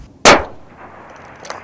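A single sniper rifle shot fired by U.S. Marines in Sangin, Afghanistan: one sharp, loud crack with a quickly fading tail, then low ambient quiet with faint scattered sounds.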